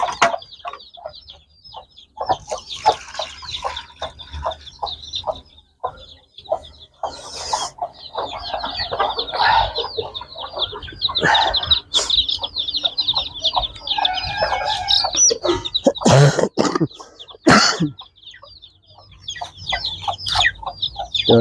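Hens and a breeding rooster clucking as a hen scratches and scatters soil, with steady overlapping clucks, sharp squawks and bursts of scuffling, close and busy throughout.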